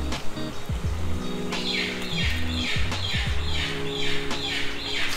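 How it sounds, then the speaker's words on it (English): Loud birds squawk repeatedly in rapid, rising calls near a small bridge in a Cebu neighbourhood, close and busy over a low rumble of passing engine noise. "Wow, those birds are so loud."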